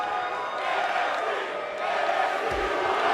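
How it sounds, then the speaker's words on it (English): A roaring arena crowd in the WWE 2K18 wrestling game keeps up a loud, continuous wash of cheering and chanting for NXT, steady and dense throughout. "the crowd, they are really hyped up. The constant NXT chants."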